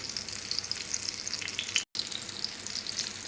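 Eggplant dipped in egg (tortang talong) frying in hot oil, a steady bright sizzle with crackling pops throughout, broken by one brief silent gap near the middle.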